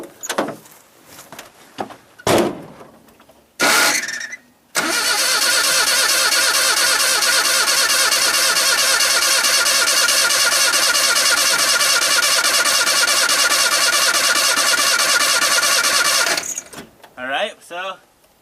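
Wood gas powered truck engine, fuelled by firewood, cranks over after a few short bursts and then runs steadily and loudly for about ten seconds before cutting out, followed by scattered handling noises.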